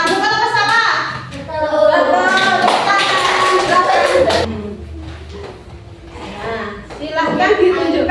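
Students in a classroom clap their hands in short rhythmic bursts, a patterned group clap that pauses and resumes, with children's voices and chatter heard between and under the claps.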